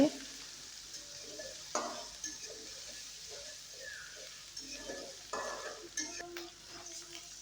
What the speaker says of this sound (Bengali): কড়াইয়ের ভেতর আরেকটু তেল দিয়ে বেটে রাখা মশলাটা দিয়ে দিয়েছি